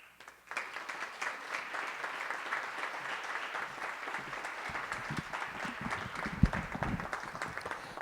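Audience applause welcoming a speaker to a live event, a sustained, moderately distant clapping from a sizable crowd that begins abruptly and continues steadily without voices.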